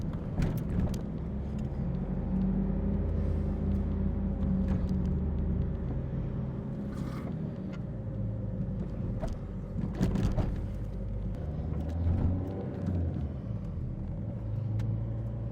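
A Renault Megane on a test drive after front-end and maintenance work, with a steady low road rumble and engine drone throughout and a few faint knocks and rattles.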